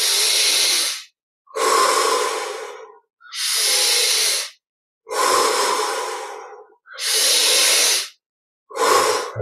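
Slow, deep breaths during a guided exercise: six long airy inhales and exhales, each lasting about a second or more with short silent pauses between, close and clear with no talk.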